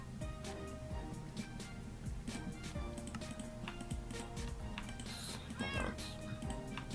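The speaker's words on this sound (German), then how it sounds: "Wie ich mich jedes Mal erschrecke, wenn ich dieses blöde Katzengeräusch höre." A Minecraft cat meows a few times over dense game music and clicks of the game world, faint and partly buried in the busy mix.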